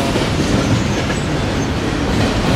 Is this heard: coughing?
no